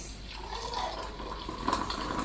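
Tea pouring through a strainer into a cup in a home kitchen, a soft steady trickle of liquid that swells slightly near the end, heard alone with no talk.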